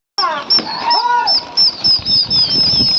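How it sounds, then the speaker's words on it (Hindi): Flocked pigeons lift off during a Lucknow pigeon-flying session with short bursts of wing flapping. High thin whistling and chirps run across the top, and the sound comes in quick repeated pulses at close range. "कबूतरों को फिर से उड़ा दिया गया है"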